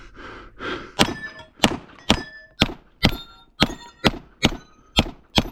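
Steyr SPP pistol shots ringing off knockdown steel targets during a trooper division match run, a steady string of about ten sharp, loud reports each followed by a brief metallic ring, spaced roughly half a second apart.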